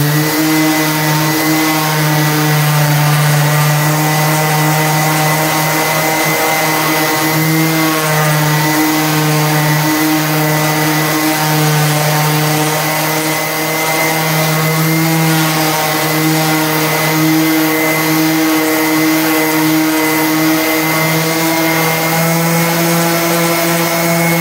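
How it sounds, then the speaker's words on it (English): A power sander works the side bolt-hole areas of a Q*bert arcade cabinet, giving a loud, continuous motor whine with steady harmonics and slight pitch wavering as it is pressed against the wood. "let's go ahead and sand this down and see how it looks"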